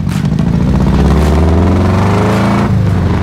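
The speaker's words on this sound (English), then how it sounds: "She revs beautifully." A modified, loud 1958 Porsche 356 with an air-cooled engine revs hard close by, a strong, continuous throaty drone that climbs and holds, then shifts pitch near the end.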